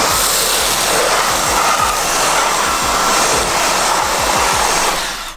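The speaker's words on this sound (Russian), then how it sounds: "Но что насчет дорогого пылесоса, сейчас также проверим." A vacuum cleaner runs with a loud, steady motor whoosh, close and continuous, with a faint thumping underneath, then cuts off at the very end.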